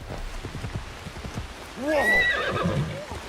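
Hoofbeats from a horse in a samurai-era video game, a steady clop under light rain, followed by a loud whinny and neigh in the second half, close and clear.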